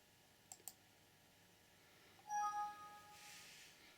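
A computer mouse gives two quick sharp clicks, then a short chime-like tone rings out from the PC while viewing dashcam footage in viewer software; quiet indoor setting, no talk.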